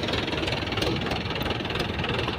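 An MT3 80 tractor engine runs continuously at a steady pace, a dense, rough knocking drone with vibration, close and fairly loud, with no speech over it.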